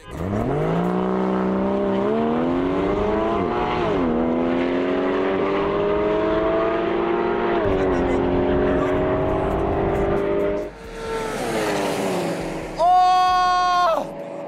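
A high-revving Porsche 3.4-litre six-cylinder engine screams loudly and steadily toward 9000 rpm on an airstrip, pitch climbing through gears, with a brief drop and a sharp final rev near the end.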